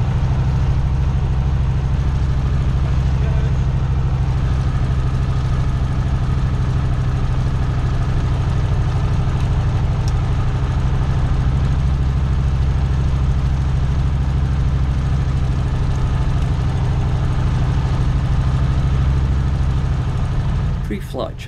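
A small aircraft engine idles steadily during run-up checks before takeoff, a loud, continuous low drone with constant vibration that holds for the whole span and eases slightly at the very end.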